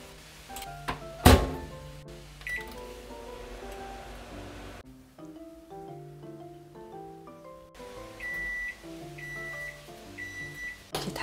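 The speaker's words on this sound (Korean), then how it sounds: "전자레인지 돌릴 거예요." A microwave oven on high heats zucchini under plastic wrap: a steady mechanical hum with a thunk near the start and a series of short electronic beeps toward the end, with no talking.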